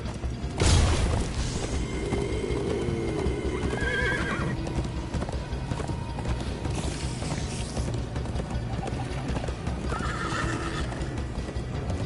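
Horse in the Minecraft Story Mode video game gallops with steady clip-clop hoofbeats and loud whinnies, a near neigh bursting at the start, over a busy game soundscape with no talk.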